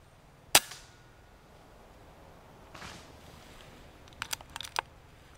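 An airgun fires once at a squirrel in autumn woodland, a single sharp, close crack, followed a few seconds later by a cluster of faint small clicks in quiet outdoor air.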